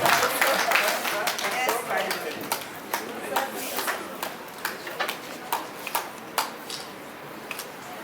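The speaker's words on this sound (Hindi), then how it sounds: "जोरदार तालियां वंदना जी कछवा" An audience at the Rajasthan Karmveer Award 2024 ceremony in Jodhpur claps for Vandana Kachhwa, the applause loud and dense at first, then thinning into scattered individual claps that fade away.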